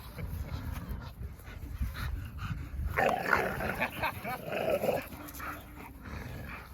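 An American Bully and a Staffordshire dog play together, trading low growls, grumbles and whimpers, with a louder burst of snarling mid-way, close by.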